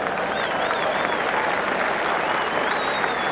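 Vocal Fijian crowd at a 1987 Rugby World Cup match against Argentina, a steady dense roar of cheering and clapping with high whistles rising above it throughout.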